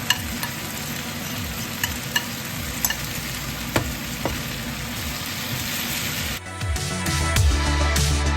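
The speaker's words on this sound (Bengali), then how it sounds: "এর মধ্যে পনিরটা মিশিয়ে দেবো এবার, যাতে মশলাগুলো ঢোকে আর কি।" Paneer being stirred into spices in a frying pan for chilli paneer, with a steady sizzle and repeated scraping strokes, then a louder burst of frying near the end.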